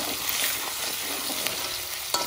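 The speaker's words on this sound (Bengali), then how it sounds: "তো আদা রসুন দিয়া পুরো মিক্স করে দিয়েছি।" Duck meat stirred in hot oil with ginger and garlic, sizzling steadily throughout with faint scraping of the spoon and a small clatter near the end, no talking.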